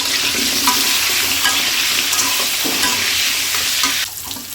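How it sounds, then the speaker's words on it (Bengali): Potato pieces sizzling loudly in hot oil with turmeric and salt while being stirred in a pan, a steady dense crackle with brief scraping stirs, easing off near the end. "একটু হলুদ লবণ দিয়ে আলুটা সুন্দর করে ভেজে নেব।"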